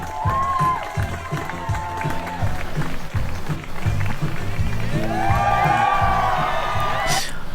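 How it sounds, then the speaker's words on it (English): Bridesmaids cheer and whoop at an oceanside wedding, with a lively crowd noise running throughout and high excited shouts rising over it, loud and steady with voices mixed in. "I love how the bridesmaids are cheering and having a good time in the background."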